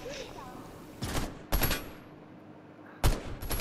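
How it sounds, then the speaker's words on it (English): Gunfire in Fortnite arrives as three separate short bursts of shots, fairly close and sharp, with faint quiet ambience between them and no talking over the shots. "Bro, do you guys hear that shooting sound?"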